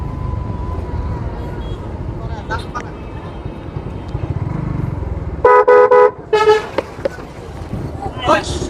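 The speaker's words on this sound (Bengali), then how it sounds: "এটা হরন দিচ্ছেন আপনি?" Loud car horn honks in two bursts, blaring and repeated, on a busy road heard from a motorbike amid engine and traffic rumble.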